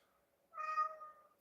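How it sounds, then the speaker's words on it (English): A house cat named Willis gives a single short meow, fairly close but soft, rising and falling once against a quiet room. "What are you meowing about?"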